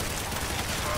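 Heavy, continuous automatic fire from the Peacemaker gun in Call of Duty zombies, a loud unbroken roar of rapid shots filling the whole moment, with some talking mixed in.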